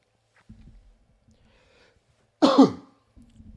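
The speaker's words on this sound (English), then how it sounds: "I had to cough real quick" A single sharp cough bursts out close by, loud and brief, between quiet stretches with faint low murmurs.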